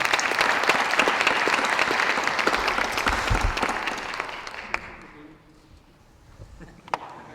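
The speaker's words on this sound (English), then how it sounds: "Round of applause, please." A mayoral debate audience in Saskatoon, October 2020, breaks into loud, sustained applause that holds for several seconds, then thins out and fades into a quiet room with a few scattered claps.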